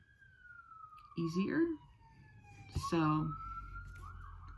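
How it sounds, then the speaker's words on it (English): Sirens wail and sweep in pitch, rising and falling at a distance, while a person speaks briefly over them. "pardon the sirens"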